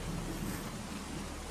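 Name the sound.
rain on a dreary day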